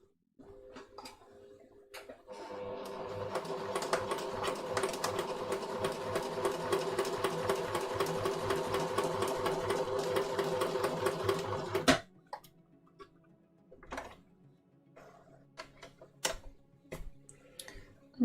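A sewing machine runs a long continuous stitch line on a kid's jacket, a rapid steady mechanical chatter lasting about ten seconds, then stops, leaving scattered clicks and handling noises nearby.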